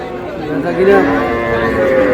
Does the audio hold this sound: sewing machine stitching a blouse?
no